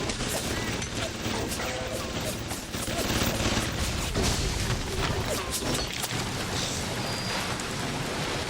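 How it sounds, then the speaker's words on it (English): Dense bursts of gunfire and explosive blasts from a grenade launcher in BioShock Remastered, a loud continuous barrage of combat noise with a voice faintly underneath. "bring out the grenade launcher, as this is a part where I can use my grenade launcher"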